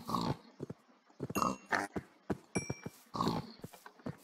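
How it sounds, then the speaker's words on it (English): Pigs in a flat-world farming video game give a series of short, fairly faint grunts and oinks in uneven bursts, with no voices over them. "Alright, so I think I'm gonna feed my pigs."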